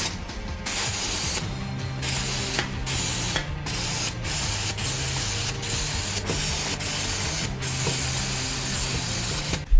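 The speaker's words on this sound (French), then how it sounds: "Pour les tests, je vais utiliser du gaz Nimrod vert pour charger les grenades." Green Nimrod gas being charged into airsoft grenades, heard as a continuous loud hiss of escaping gas with repeated short clicks and pauses throughout.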